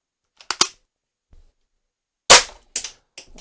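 An air pistol fires 0.5 gram Hornet pellets, giving several sharp, close, dry snaps spaced irregularly across a few seconds in otherwise quiet surroundings, one burst notably louder than the rest.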